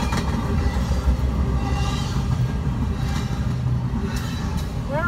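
A Norfolk Southern freight train rolls past in a steady low rumble with clattering wagons, moderately loud and continuous, with no talk over it.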